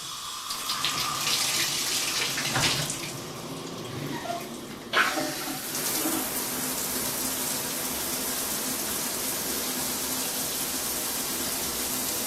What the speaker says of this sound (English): So we're just going to turn the water on and see what happens.